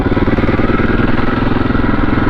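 A KTM 640 single-cylinder thumper runs close by, its engine pounding out a loud, rapid, even low-pitched throb with no pauses and no talking.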